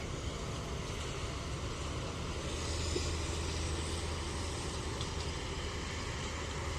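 A constant low mechanical drone of four combine harvesters working a grain field at harvest, fairly distant and steady, with no voices.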